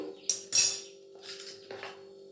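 Utensil clinks and scraping as soybean paste is mixed with three eggs and a pinch of salt in a bowl, a few sharp taps near the start, then softer stirring scrapes with a steady background hum.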